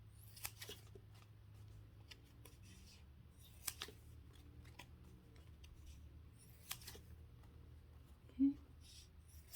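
Scissors snipping through a craft foam sheet while shaping a dahlia flower, a few quiet, scattered crisp cuts heard close against a soft room background.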